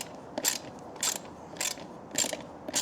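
Long bolts being tightened on a GhostCat F4X Pro e-bike, heard as short bursts of close ratcheting clicks repeating roughly every half second in a steady rhythm, with no talking.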